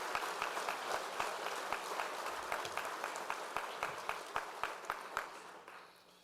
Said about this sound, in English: Please give Dr. Ward a round of applause.